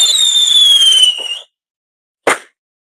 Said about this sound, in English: One more fireworks to go just to celebrate.